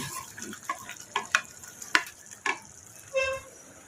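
Hapsa fries in a home kitchen pan with crackling sizzle, interrupted by irregular scraping and clattering stirs and a few sharp utensil knocks, heard close with no talking.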